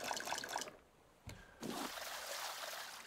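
Water pours into a water bottle in the Raft video game, a steady trickling and splashing that cuts off briefly and then resumes, fairly close and loud with no talk over it.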